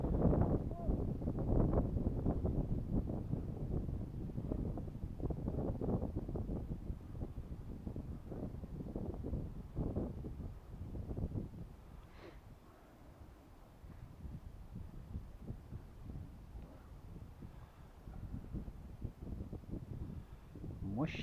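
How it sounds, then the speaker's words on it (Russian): Wind gusts in surges across the microphone beside a river during float fishing in Perm Krai, loud rumbling buffets that ease and return, with occasional faint speech in the background. "Ветер набегами дует."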